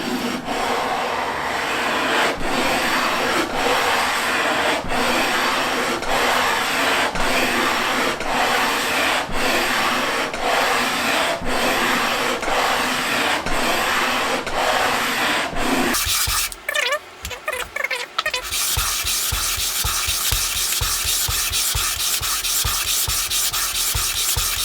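A wooden fretboard is sanded by hand with sandpaper in long, steady, rhythmic rasping strokes at close range, then the scraping turns harsher and choppier after a brief pause.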